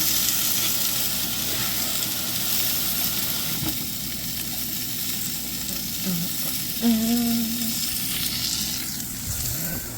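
Steak, onions and mushrooms fry in a pan with a continuous close sizzle and hiss, joined by a few brief stirring knocks and scrapes, with no one talking.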